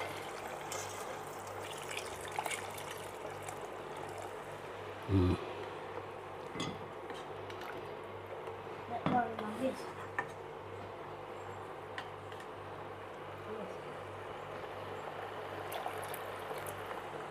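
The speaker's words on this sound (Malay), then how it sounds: "Terusnya kita masuk air rebusan daging tadi." Beef stock from boiling meat is poured into a pot of beef curry, a soft, faint liquid splash and trickle over a steady low hum, with a couple of brief clunks.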